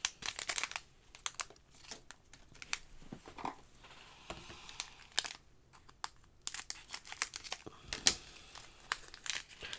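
A crinkly plastic package being cut open at a crafting table, with irregular bursts of crumpling and crinkling and sharp snips and rustles between quieter pauses, close by.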